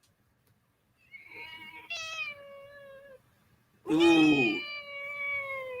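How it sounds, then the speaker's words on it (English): Several cats meow close by, a few drawn-out tonal cries spaced across the clip, the last one loud and wavering like a caterwaul, with a brief exclamation from a person. "I know those meows"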